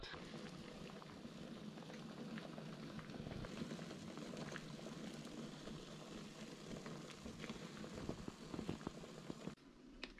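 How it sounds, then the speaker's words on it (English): Water boiling in a pot with a large foraged lobster, a steady close bubbling hiss that runs evenly throughout at low level. "what I'm going to do for now is I'm just going to boil the lobster"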